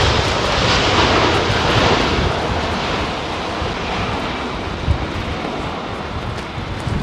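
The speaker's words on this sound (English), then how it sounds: "The aircraft just wants to keep flying" Aircraft engine at Heathrow Airport: a loud, continuous jet roar with broad rushing noise and wind buffeting that fades slightly over the span, with no one speaking.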